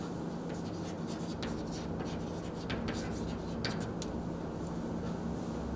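Steady writing on a board during a mathematics lesson on matrix equations, with scratchy strokes that come and go under a constant loud room hiss and no speech.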